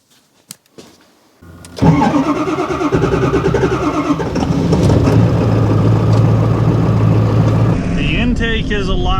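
A Ford 7.3 diesel engine cranks after a few faint clicks, catches with a loud burst and settles into a steady, close idle with a rough clatter, with no exhaust manifold tick.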